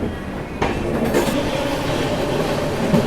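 Shri Shakti Express train pulling out of New Delhi station toward Katra: a steady, close rumble of rolling wagons with occasional wheel clacks and brief screeches.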